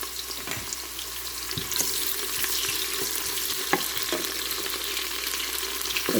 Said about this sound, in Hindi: मैंने एक मीडियम साइज़ का प्याज ले लिया जो मैं इसमें डाल दूँगी। फिर इसको फ्राई कर लेना।